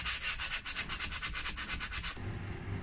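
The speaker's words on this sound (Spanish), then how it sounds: "Si yo empiezo a lijar por cualquier parte," Rhythmic back-and-forth strokes of hand sanding with sandpaper on a wall clock being prepared for black paint, loud and close, about fifteen quick rasping passes before the scraping stops, leaving quieter rubbing.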